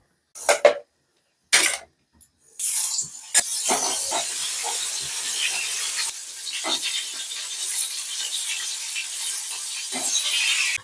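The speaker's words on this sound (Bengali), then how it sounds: "দিয়ে দিচ্ছি কড়াইয়ে তেল বেগুনগুলো ভাজবো" Eggplant pieces frying in plenty of hot oil in a wok, starting with a few short bursts and then settling into a loud, continuous close hiss and sizzle with scattered crackles, with no talking.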